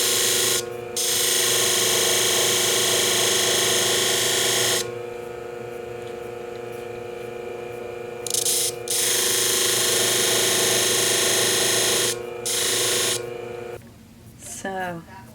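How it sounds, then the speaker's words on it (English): A wide screwdriver tip is ground thin on a shear-sharpening machine, producing a steady loud whirring grind in several long runs separated by brief pauses, with a person talking in between and a clatter at the end. "You may have to take your screwdriver that you have, a wide one like this, and flatten it down on your machine."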